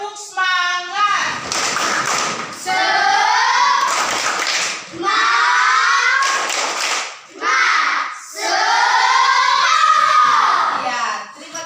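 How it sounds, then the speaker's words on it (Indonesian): Schoolchildren in a classroom chant and clap out the rhythmic 'tepuk semangat' cheer, loud and close, with bursts of quick claps punctuating the children's group chanting in a repeated pattern. "Tepuk semangat."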